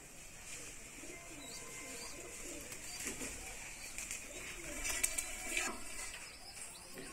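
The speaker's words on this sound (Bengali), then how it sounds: "এগুলো একটু ডিপ চোখের পায়রা" Deep-eyed tournament pigeons coo softly in low rumbling calls amid faint background chatter and a brief flurry of wing flaps, quiet and close.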